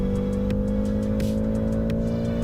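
BMW M5 CS engine in a driving simulator game, a steady loud droning engine note held at constant revs with faint repeated ticks over it.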